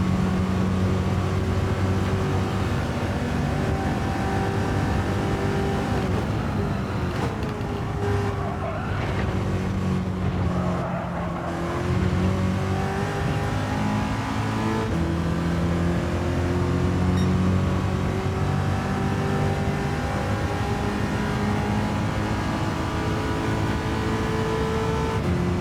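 Race car engine held at full throttle in Gran Turismo 7 at the Sarthe circuit, a loud, steady high-pitched drone that climbs and dips slightly through gear changes and stays continuous with no one talking.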